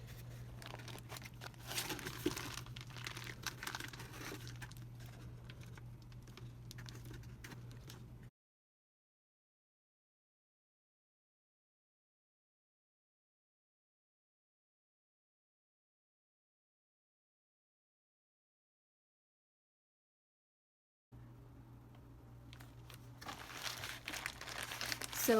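A bag of reclaimed clay is squeezed and pressed down while still closed, giving soft plastic crinkling and crunching, then a long stretch of silence before the quiet crinkling returns.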